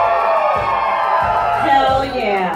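A crowd whoops, yells and cheers loudly and continuously at an erotic circus show in a casino venue, a dense roar of screaming voices with rising shouts throughout.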